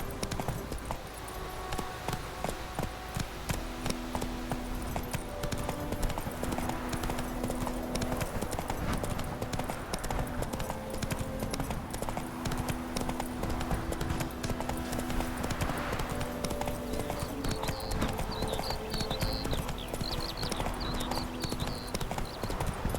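Steady hoofbeats of a horse galloping in The Hunt video game, continuous and close throughout, layered over a game music score with no voices.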